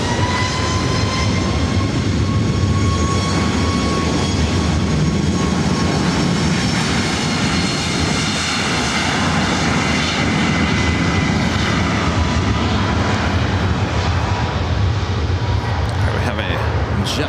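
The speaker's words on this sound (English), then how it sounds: "JetBlue A320." A JetBlue Airbus A320 jet airliner at LAX airport roars with a loud, sustained engine drone and high turbine whine, continuous and close.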